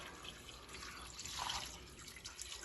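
Cold water pours into a pot of thinly sliced ginger with a soft, steady splashing and trickling, quiet and continuous.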